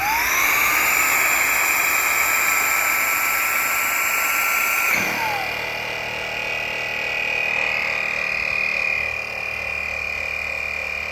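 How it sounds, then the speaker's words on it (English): An ISLE electric inflation pump starts on its low-pressure blower motor with a steady, high whine, then switches over to the compressor motor, leaving a lower, continuous mechanical hum close by. "when I start this, it should start on the low pressure pump, and then it will switch over, and you'll hear that."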